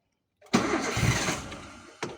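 Older Toyota Avanza engine revved during setup of a dual-fuel gas conversion kit: it surges loudly about half a second in, holds a steady roar while slowly easing off, then a second sharp burst comes near the end.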